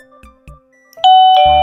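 An MJRHOME H-A16E battery-powered wireless push-button doorbell chime rings loud and close, a bright two-tone ding-dong melody following a couple of soft button clicks.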